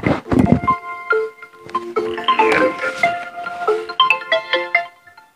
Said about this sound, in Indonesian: Iki telepon lagi tepat ngaji